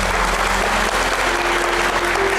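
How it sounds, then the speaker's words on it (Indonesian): Steady, dense applause from a TV studio audience on a talk show, loud and continuous throughout with no break. "Tepuk tangan dulu dong."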